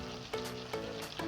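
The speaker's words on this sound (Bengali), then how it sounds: "হলুদটাকে তেলে ভেজে নেব।" Turmeric powder fries in hot oil with a close, dense sizzle, broken by three quick scraping strokes of a spoon stirring the pan.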